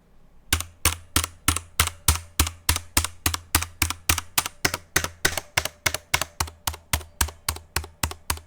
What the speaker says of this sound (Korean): 확실히 통울림은 거의 없고 이렇다 할 소음도 들리지 않네요.